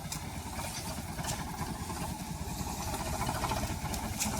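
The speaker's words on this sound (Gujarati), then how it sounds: "અને આપણું ટ્રેક્ટર આવે છે ભરવા માટે" A tractor engine chugs steadily at idle beside a sugarcane field, a continuous rumbling throb with no talking.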